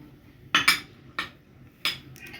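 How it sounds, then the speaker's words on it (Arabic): A utensil stirs dry coating ingredients with milk and vinegar in a bowl for oven-baked chicken panée, producing four sharp clinks against the bowl over near silence. "هنزل باللبن ووراها الخل، وهقلب بس المكونات دي تقليبه كويسه مع"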